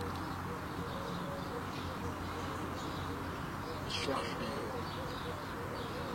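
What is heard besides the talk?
birds cooing by artificial lake in Tirana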